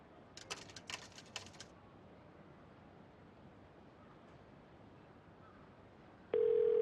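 A telephone tone inside a phone box in the video game Yakuza 0, a steady electronic tone that starts suddenly near the end, preceded by a few faint clicks over quiet background hum.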